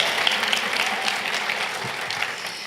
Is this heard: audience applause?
yes